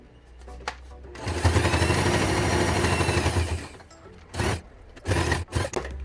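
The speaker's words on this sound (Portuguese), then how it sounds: "Vai encaixando, segura e passa a costura." Domestic sewing machine running a seam on a waterproof garment with bias binding, a steady mechanical whir lasting a few seconds, then short separate bursts of stitching, close and fairly loud.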